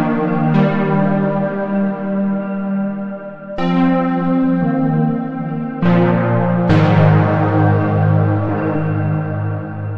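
Omnisphere synth preset Dark Warbird from the Equilibrium 2 sound bank, playing loud sustained bell-like chords that re-strike about four times with rich ringing overtones and long decays, alone without talk.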